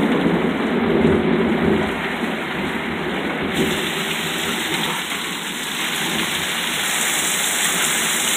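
Thunderstorm with heavy rain pouring steadily close by, a dense hiss of drops on surfaces with low thunder rumbling underneath, continuous and fairly loud throughout.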